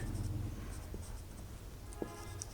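A pen writes out math working on paper, making soft, close scratching strokes in short bursts with small pauses between them. No one talks over it.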